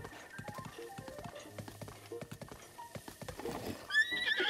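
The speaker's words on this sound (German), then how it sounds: "Ein Esel!" A donkey in the Breath of the Wild video game, Master Mode, with hooves clip-clopping in a quick series and a braying whinny rising near the end, fairly quiet against a sparse game soundscape.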